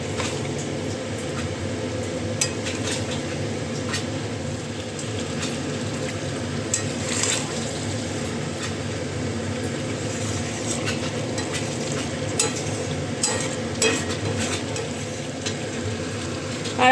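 Capsicum sizzles and fries in a curry in the pan, giving a continuous close hiss with occasional scraping clicks from stirring.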